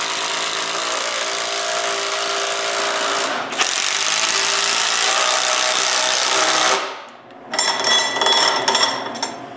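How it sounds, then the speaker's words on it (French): A power drill drives a screw into a mobile wooden workbench to hold its casters in place, buzzing steadily in two long bursts with a brief pause, then stopping and giving a shorter, choppier final run, with no talk. "Je visse une vis pour les retenir en place."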